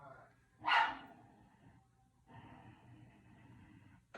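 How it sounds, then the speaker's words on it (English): A single dog bark sounds in the background, fairly faint, followed by quieter room noise and faint voices. "You can hear one of my dogs in the background."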